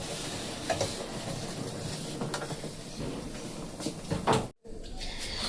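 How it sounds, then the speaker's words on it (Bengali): Gram flour (besan) frying in oil in a pan while being stirred, a soft steady sizzle with scraping strokes of the spatula, close and quiet, with a brief drop to near silence near the end. "দেখুন বেসন বেশ সুন্দর ভাজা হয়ে গেছে"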